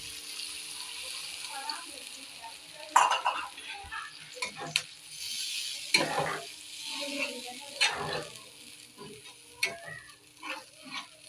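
Food being stirred and sautéed in a pan after water has been added, with sharp utensil scrapes and clanks over a steady bubbling sizzle, and a voice talking intermittently.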